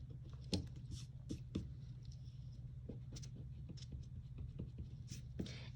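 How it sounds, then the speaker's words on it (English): A pencil drawing of doors and windows has excess lines rubbed away with an eraser, giving short scratchy strokes in an irregular rhythm over a steady low background hum. "so I'm going to go ahead and erase those."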